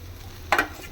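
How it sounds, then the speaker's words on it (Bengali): Fried paneer cubes stirred into a palak paneer mixture in a pan, a brief soft scrape and sizzle lasting a fraction of a second over a quiet background. "এবার আমি যে ভাজা পনিরগুলোর মধ্যে দিয়ে দিচ্ছি।"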